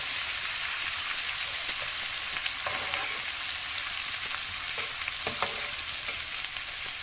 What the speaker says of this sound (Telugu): పసుపు వేసుకొని సరిగా కలుపుకోవాలి